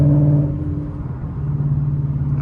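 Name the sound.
2018 Mustang GT accelerating, heard inside cabin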